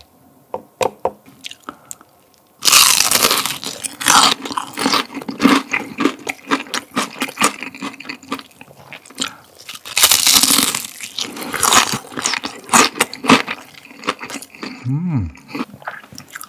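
Close, crisp biting and chewing of a crunchy fried stuffed chili pepper filled with meat and tofu, bought from a chicken shop; repeated crackling bites and wet mastication after a quiet start, with no talking.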